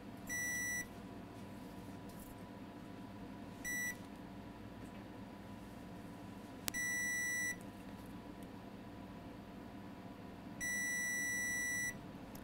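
Multimeter in diode mode probing an iPad Pro 12.9 2nd gen logic board for a short circuit, giving four steady electronic beeps of varying length, spaced apart over a quiet room hiss.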